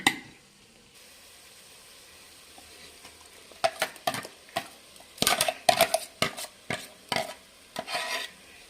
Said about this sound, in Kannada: ಈ ಮಸಾಲೆನ ಸ್ವಲ್ಪ ಹಸಿ ವಾಸನೆ ಹೋಗೋವರೆಗೂ ಫ್ರೈ ಮಾಡಬೇಕು